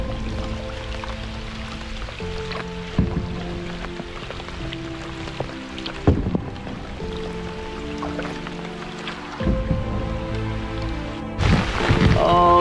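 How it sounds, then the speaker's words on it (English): Rain falls steadily on a wilderness canoe trip in Algonquin Park, a continuous patter with drips and splashes close by, with occasional knocks and movement noises and no talk. "been caught out in the rain, big time."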